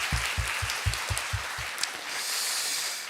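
Church congregation applauding during a first-anniversary worship service: a run of about seven strong, evenly spaced claps fades into a diffuse, softer spatter of clapping.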